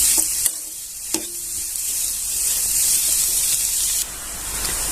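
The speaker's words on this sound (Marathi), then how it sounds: "आता चटणी छान अशी हलवून घ्यायची" Sweet-and-sour chutney with salt is stirred in a hot pan, sending out a loud hissing sizzle with a few sharp knocks of the spoon near the start, and no talking.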